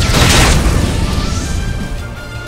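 Fire spell blast in the JRPG Octopath Traveler II, a loud whooshing burst with a deep boom that swells at the start and then hisses and crackles as it fades over a couple of seconds.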